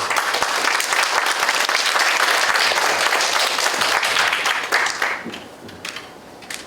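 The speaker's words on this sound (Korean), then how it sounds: "공감하시면 박수 한번 쳐봅시다." Sustained audience applause during a lecture in a hall, a loud dense wash of clapping that holds steady for several seconds, then thins out and fades to a few scattered claps.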